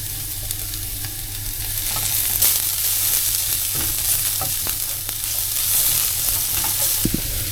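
Julienned carrots and cabbage sauté in a pan for Thai-style cooking, giving a steady broad sizzle with scattered soft stirring clicks and scrapes throughout, close and fairly loud with no talking.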